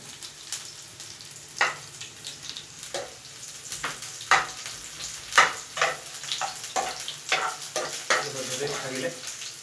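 Onions frying in hot oil give a steady crackling sizzle with sharp bursts of stirring scrapes, close and moderately loud, with no one speaking.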